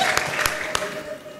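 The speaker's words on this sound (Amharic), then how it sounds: "ጭብጨባችሁ ልክ አይደለም ተነስተታችሁ ቆማችሁ ማጨብጨብ አለባችሁ" A church congregation claps together in a brief burst of applause, with a few sharper individual claps standing out, while a preacher's voice carries over it.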